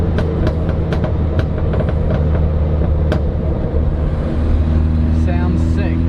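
Toyota Corona with an aftermarket exhaust rumbling loud and close as the driver lets off the accelerator, giving a continuous low drone with scattered pops and crackles during the overrun.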